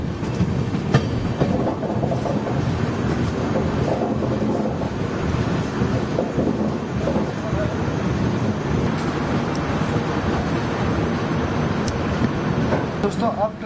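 An Indian Railways Kriya Yoga Express train, heard from inside a 3rd AC economy coach, runs steadily, with a loud continuous rumble and rattling clatter of the carriages throughout.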